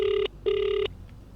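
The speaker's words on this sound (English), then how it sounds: "Pat now pulls out his phone and dials Naveen's number" Telephone ringback tone heard after a number is dialed on a mobile phone: two loud, even electronic rings, each lasting about a quarter to half second with a brief gap, no talk.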